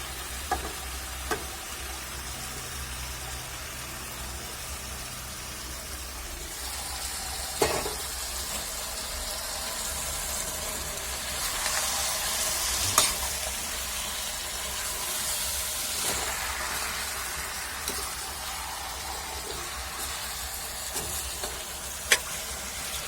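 Potatoes and fenugreek leaves fry in a pan, a steady sizzle under a low hum with occasional scraping and clinking of a spoon as the mix is stirred, close and continuous throughout.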